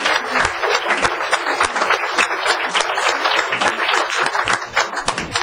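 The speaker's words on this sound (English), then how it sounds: "Can we all give a big round of applause to our panel again?" An audience at a Council on Aging meeting applauds the panel, a dense, continuous round of clapping from many people that holds steady throughout.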